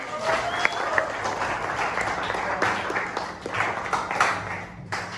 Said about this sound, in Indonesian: terima kasih, tepuk tangan untuk tadi.